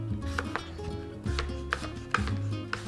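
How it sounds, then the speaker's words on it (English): A knife slices through apples on a cutting board, producing several distinct, irregularly spaced cuts and board taps, close and moderately loud over a faint kitchen hum. "I'm gonna go ahead and start slicing up my apples"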